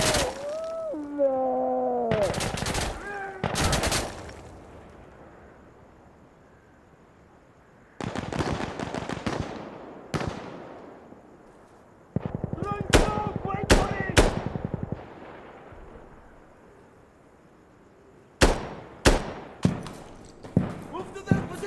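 Rifle fire in the shooter game Insurgency Sandstorm comes in sharp single shots and rapid bursts, loud and close, separated by quiet gaps, with voices talking between the volleys.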